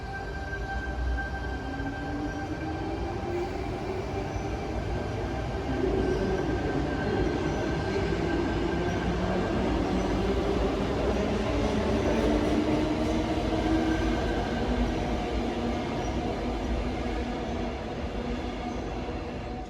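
A Sydney Trains suburban electric train, a K-set or Tangara, rumbles steadily along the tracks for a long stretch, its motor whine rising and falling, with faint wheel squeal.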